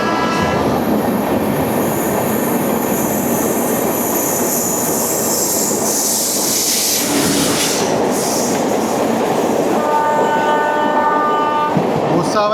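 A Mumbai CSMT–Rewa Express train passes loud and close, its rolling clatter and squealing wheels running continuously while the horn sounds in long blasts near the middle and again toward the end.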